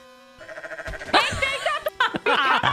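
A sheep bleats in the shooter game Trouble in Terrorist Town, a wavering cry rising over in-game music, with a second bleat following after a brief break.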